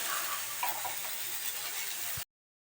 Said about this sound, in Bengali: তো এখন এই পেঁয়াজটা একটু হালকা ভাজা হোক